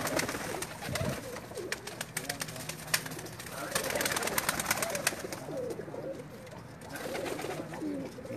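Pakistani pigeons on a new rooftop in Jeddah, Saudi Arabia, coo softly and steadily with occasional wing flutters, under people talking and general outdoor rooftop noise.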